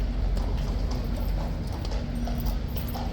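Horse hooves clip-clop at Horse Guards in London, where King's Guard horses are changed over, a steady run of hoof strikes heard over a constant outdoor rumble.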